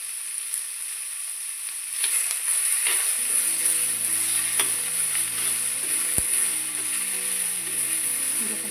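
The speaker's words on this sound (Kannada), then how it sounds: "ಈಗ ಈ ಟೊಮೆಟೊ ಕಾಯಿ ಹೆಚ್ಚಿಟ್ಕೊಂಡಿದ್ದೀವಲ್ಲ ಇವನ್ನ ಹುರ್ಕೊಳ್ಳೋಣ." Chopped tomatoes fry in oil in a pan for a North Karnataka-style tomato chutney, giving a continuous close sizzle with occasional stirring scrapes.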